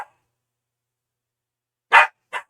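A dog gives two short barks close by, the first louder and the second briefer, after a long stretch of silence.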